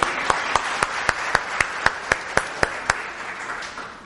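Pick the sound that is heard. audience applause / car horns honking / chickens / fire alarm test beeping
audience applause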